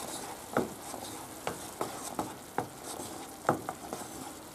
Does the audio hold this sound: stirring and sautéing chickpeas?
yes